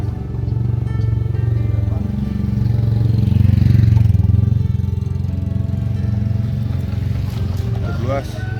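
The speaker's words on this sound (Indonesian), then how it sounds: "Motor, mobil." Steady, loud engine drone of motorcycles and cars on the road toward Gunung Gede Pangrango, a continuous rumble swelling midway, with a voice talking briefly over it.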